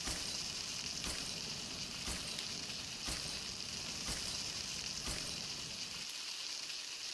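Cooking over a fire in Palworld, a steady close sizzle and crackle of frying, continuous throughout with regular faint pulses, ending abruptly.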